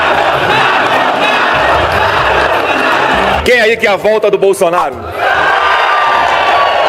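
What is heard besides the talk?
crowd cheering and ovation for Bolsonaro at mayors' march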